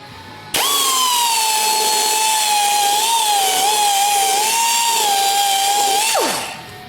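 A handheld power tool buffs surface rust off an Oldsmobile 455 engine block, starting abruptly and running at a loud steady high-pitched whine for about six seconds before spinning down, with no talking.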